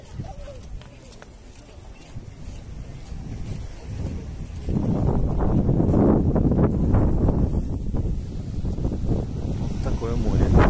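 Steady wind gusts off the sea along a seaside embankment, a broad continuous rush that grows louder midway and stays strong, buffeting close to the microphone with faint background activity.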